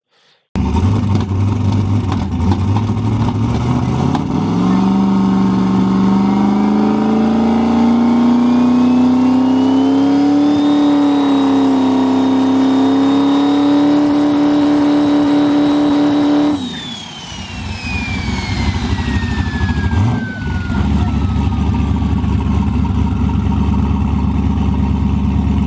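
A junkyard 4.8L LS engine revs hard while spooling a huge 88mm turbo. It gives a loud, sustained roar with a rising whistle that builds over several seconds, then drops sharply as the throttle closes, leaving a fading whine and idle rumble.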